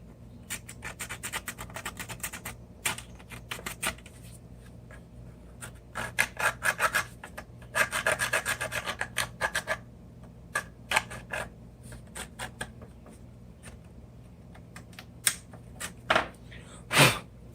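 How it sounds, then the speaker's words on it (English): A hand file rasps over spot putty on a 3D print in quick bursts of short strokes, close and fairly quiet, with pauses between the bursts. "you can kind of use these files to sand it down too."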